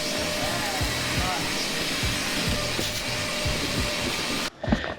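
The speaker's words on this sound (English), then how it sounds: "Let's test the vacuum cleaner" A vacuum cleaner runs continuously inside a half-cabin boat under restoration, a steady whirring drone with a faint rhythmic thumping underneath, cutting out briefly near the end.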